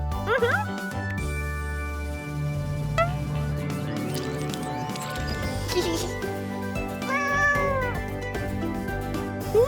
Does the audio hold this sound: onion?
no